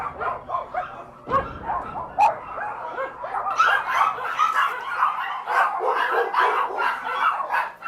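Several dogs in a puppy mill bark and yip repeatedly in an overlapping, excited chorus that grows busier and louder after a sharp knock, with occasional whimpers, fairly close and without speech.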